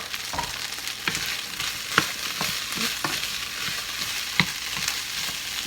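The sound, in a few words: chopped onion frying with potatoes in a pan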